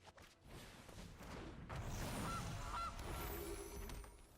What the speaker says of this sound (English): We have a goose.